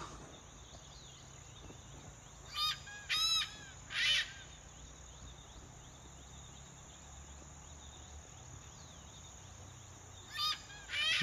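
A large bird gives harsh, crow-like caws, a quick cluster of three and then a pair later, over a steady hum of insects.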